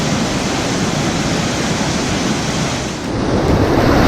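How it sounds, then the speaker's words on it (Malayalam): A stream pours into the Vattathil waterfall, making a loud, unbroken broadband rush of falling water close by that dips briefly and then swells again. "ഈ ഒരു സൈഡിൽ നിന്നും ഒരു വെള്ളം, അതായത് ഒരു തോട് വന്ന് ഇതിനകത്തോട് ലയിക്കുന്നുണ്ട്."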